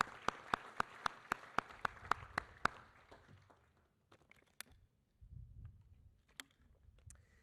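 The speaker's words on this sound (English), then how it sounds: "Join me in a round of applause for all of them." Sparse clapping at a small military change of command ceremony: about a dozen evenly spaced, crisp claps from nearby hands, then scattered single claps and soft rustling in an otherwise quiet room.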